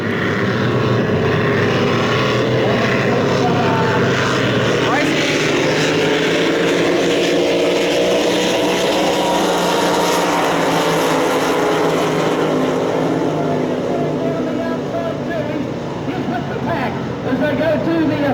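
Loud, continuous engine roar of racing powerboats passing on a river, a dense droning wash that holds steady throughout with a voice talking over it.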